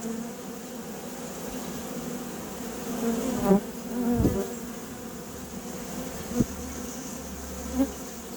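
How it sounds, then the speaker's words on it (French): A swarm of honeybees gathered during a swarm collection, buzzing as a steady, dense hum throughout with a few brief louder bumps and handling knocks close by. "On va garder le paquet d'abeilles."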